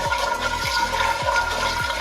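Water pours steadily into a cooking pot of rice already seasoned with oil, salt and cumin, a continuous loud splashing rush with no talk over it.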